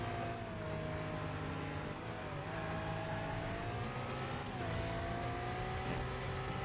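A sports car engine roars steadily in the Stuntman video game during a chase, its drone loud and continuous, with the pitch rising and dipping as the car accelerates and weaves through traffic.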